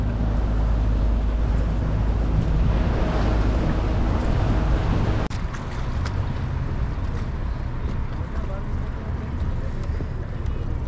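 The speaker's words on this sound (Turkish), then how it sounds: "Tekneler start için toplanıyor." Fishing boats gather for the start of a pufferfish fishing competition off Antalya, with steady engine drone, water wash and wind buffeting the microphone throughout; a voice speaks over the noise.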